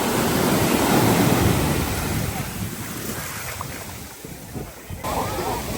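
Large sea waves wash onto a warm-water beach at Phuket, Thailand, as a steady broadband roar with gusts of wind buffeting the microphone, swelling early and easing slightly toward the end.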